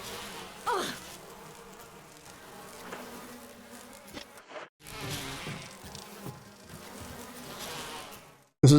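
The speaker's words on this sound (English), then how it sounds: "I want to at least like get the bees away from me for the time being." Swarming bees from a giant beehive in the 2002 Resident Evil video game make a steady insect buzz that drones through the scene, broken by a brief silent gap midway, with no talking.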